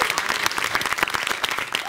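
An audience at a live improv show claps loudly and continuously, brisk crowd applause with a few faint voices mixed in.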